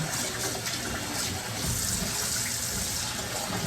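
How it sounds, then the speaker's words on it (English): Tap water runs over cut sweet potatoes being rinsed for pie filling, a continuous splashing rush with small clunks of the pieces moving in the stream, fairly close and with no talk. "Just rinse them good. Make sure your water is clear."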